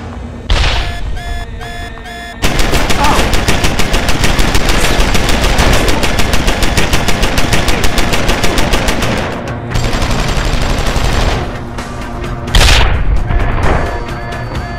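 Automated gun turrets fire at Barrett, a boss in a Deus Ex: Human Revolution battle, as a loud, sustained burst of rapid machine-gun fire with booming impacts that breaks off briefly and then resumes.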